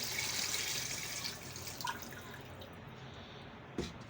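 Water pours steadily into a pressure cooker holding mutton trotters for paya, a continuous close splashing rush with a brief louder splash near the end.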